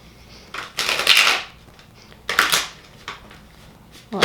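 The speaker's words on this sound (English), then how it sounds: "that was a crappy shuffle" Tarot cards being shuffled by hand, two quick riffling bursts of papery rustle followed by a few lighter flicks and taps, close and fairly loud with no talking.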